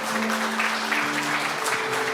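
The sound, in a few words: audience applause welcoming a guest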